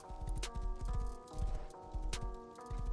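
Thoroughbred horse galloping in the game Rust, with quick rhythmic hoofbeats in steady repeating clusters over a low rumble and faint tonal music, close and fairly loud, no talking.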